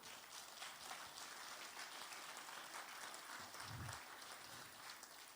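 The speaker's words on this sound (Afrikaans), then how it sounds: "Sal U jou hande klap gee?" A church congregation claps together in a steady, dense patter of applause that stays level throughout, heard from some distance with no voices over it.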